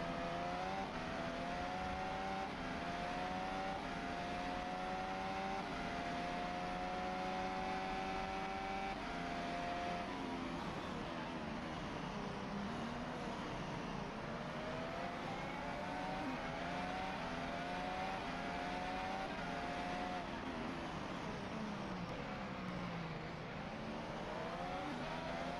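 A Formula 1 car's engine roars continuously onboard at the 2024 Italian Grand Prix, loud and close, with rising and falling pitch through gear changes and throttle lifts.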